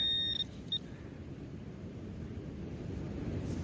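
A metal detector sweeping a sandy beach gives two short, high beeps near the start, then a steady low rumble of wind and surf carries on with no further signals.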